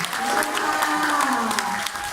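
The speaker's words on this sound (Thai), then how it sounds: "ขอเสียงปรบมือ" An audience claps steadily and fairly loudly at a Thai gathering, a dense continuous patter of many hands, with a faint voice or tone running underneath throughout.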